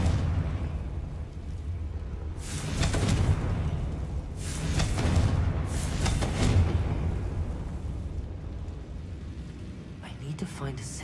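Confringo spell blasts in Hogwarts Legacy, three rumbling fiery bursts a couple of seconds apart over low game ambience, with a softer burst near the end.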